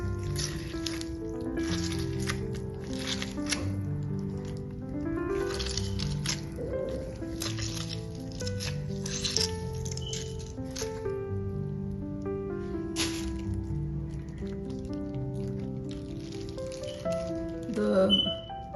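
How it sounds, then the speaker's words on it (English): A lemon is squeezed by hand over a pot of strawberries for homemade jam, with soft wet squishing and faint drips, quiet and close, under a background of gentle kitchen noise. "Let's squeeze in the juice."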